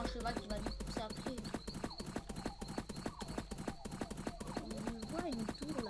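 Horse hooves clip-clop in a video game, a fast, continuous run of sharp, evenly spaced knocks under speech.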